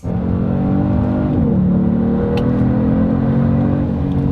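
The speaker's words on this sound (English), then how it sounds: "The turbos spool up so quick." A 2022 Genesis G70 accelerates hard with its turbos spooling up, heard as a loud, close, steady engine drone with a slight shift in pitch partway through.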